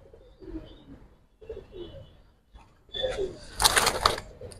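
A pair of female giribaz pigeons giving low, throaty coos in short phrases, fairly faint and close, followed by a brief rustling burst.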